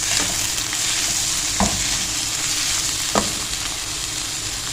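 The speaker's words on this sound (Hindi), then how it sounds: "अब इस टाइम पे हम इसमें डालेंगे टमाटर, कटे हुए टमाटर।" Chopped tomatoes hit hot oil in a pan while cooking daal karela, giving a steady loud sizzle with two brief clinks of a spoon against the pan.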